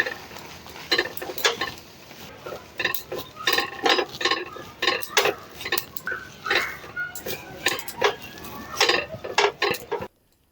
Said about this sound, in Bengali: হালকা আঁচে রেখে রেখে নাড়াচাড়া করে একটা সুজির ডো তৈরি করে নিয়েছি